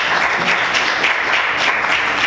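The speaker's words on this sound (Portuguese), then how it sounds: "Vamos aplaudir o Senhor" A church congregation applauding, with loud, steady, sustained clapping from many people filling the room and no voices above it.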